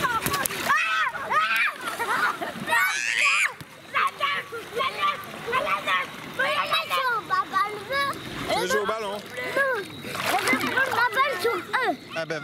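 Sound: child swimming and splashing in water

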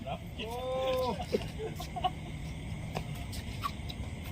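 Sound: chicken clucking

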